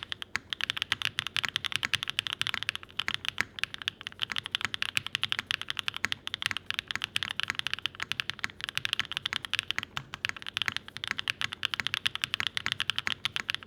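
Rapid, steady typing on a Zoom75 TIGA mechanical keyboard with purple keycaps, a dense stream of bright, crisp clacks heard close up with no talking.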